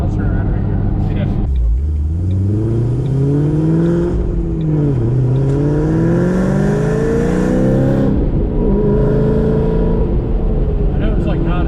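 A 2007 Ford GT500 with cams, Kooks long-tube headers, an X-pipe and stock mufflers revs and accelerates from inside the car, its engine tone rising and falling through gear changes, loud and steady with occasional talk mixed in.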